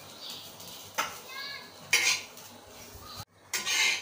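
Dry grated coconut stirred and roasted in a metal pan for a Malvani chicken masala, with repeated spoon scrapes and clinks against the pan at a close, moderate level and a faint background hiss, no voices.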